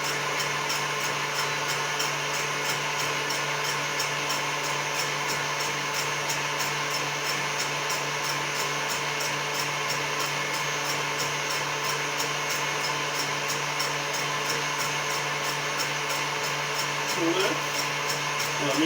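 An electric mixer whips egg whites to a foam for a soufflé glacé, a steady whirring motor drone that holds constant throughout with only a brief change near the end.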